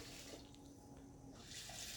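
Tap water runs steadily into a pot holding one cup of white rice, a close, even gush that rises slightly toward the end with no voices.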